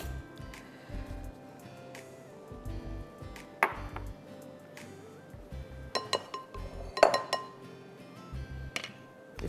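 A cup of butter is beaten in a bowl for a Ding Dong cake, heard as irregular clinks and knocks of a utensil against the bowl, close and fairly quiet, with sharper bursts of clatter in between.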